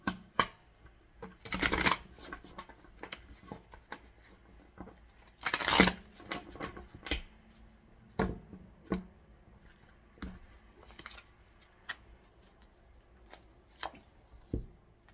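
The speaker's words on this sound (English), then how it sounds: "So I will also get some oracle cards from my homemade deck here" Homemade oracle cards being shuffled, with two loud riffling bursts and many scattered snaps and taps of card handling, close and without talk.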